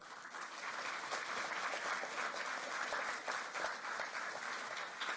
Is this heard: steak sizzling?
no